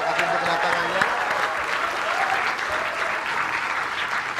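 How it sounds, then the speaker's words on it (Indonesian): A television talk-show studio audience applauds, with dense, steady clapping close and loud for a few seconds. "tepuk tangan sekali buat Agi dan juga Mas Ari di sini"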